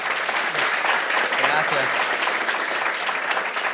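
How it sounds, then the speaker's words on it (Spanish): Sustained audience applause at a stop-motion masterclass, dense and steady throughout, with a host speaking briefly over it. "Un aplauso."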